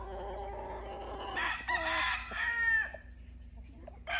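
Imported John Bishop Kelso brood cock rooster on a farm, crowing once in a clear, nearby call with a rising then falling tail, amid quieter background clucking.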